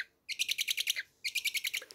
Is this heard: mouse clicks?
no